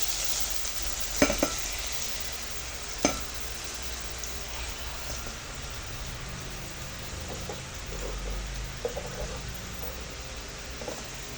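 Onion and tomato sautéing in a rice cooker, a soft steady sizzle with occasional stirring knocks and clicks, fairly quiet and close, with no talk.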